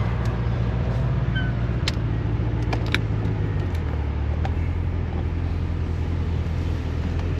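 A Corvette C4 rumbles as it pulls away, its low engine note steady and loud, then dropping in pitch partway through, with a few faint clicks over the drone and no voices.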